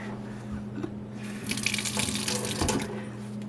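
Tap water runs into a sink to dampen a cloth for wiping translucent stain on ceramics, a steady close hiss that swells louder midway and carries on alone without talk.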